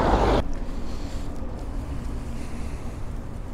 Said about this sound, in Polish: Płynie jakiś wojskowy okręt